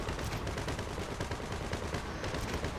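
Cannon gunfire in the video game GTA 5 Online comes as a dense, continuous barrage of loud overlapping blasts that fill the whole stretch, with no voices heard.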